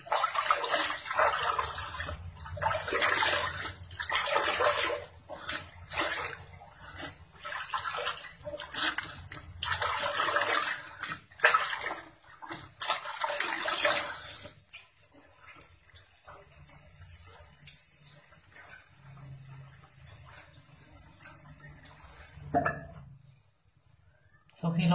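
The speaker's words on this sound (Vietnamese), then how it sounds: "Sau đó mình rửa sạch cái nước này." Running water from a tap splashing steadily as a face is rinsed, close and continuous for about fifteen seconds before quieting to a faint trickle, with a voice talking at times.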